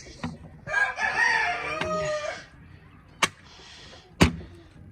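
A chicken clucks and squawks nearby in short bursts, with a couple of sharp knocks between calls.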